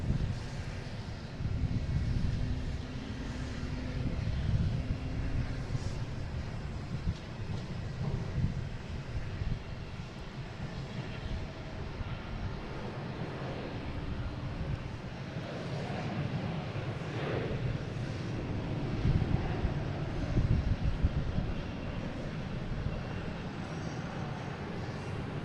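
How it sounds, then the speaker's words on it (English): Airliners landing at Boston Logan, a United A321neo and an A220, send a steady low jet-engine rumble mixed with gusty wind buffeting the microphone, swelling and easing over time at a moderate distance. "we got United Airlines landing on 4 right from Denver, an A321 Neo, and we have A220 from Tampa landing on 4 left"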